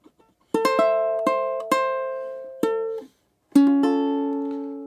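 A three-note C6 guitar chord is plucked and strummed a few times, bright notes ringing and decaying between strokes, played up close with no talking.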